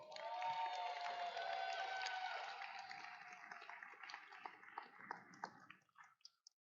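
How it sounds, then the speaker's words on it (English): Audience at an FTC robotics league tournament in Northern Nevada applauding and cheering, a dense wash of clapping that swells then thins out into scattered claps and fades. "one more round of applause to our judges, referees, and FTAs."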